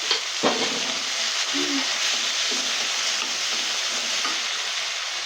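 Tomatoes sizzling in a hot frying pan in a home kitchen, a continuous close hiss of frying with a sharp clack of a spoon early on and soft stirring throughout.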